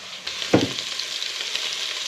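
Chicken frying in hot oil with turmeric, a sharp burst of sizzling as pieces hit the pan, then a steady close crackling hiss that carries on alone.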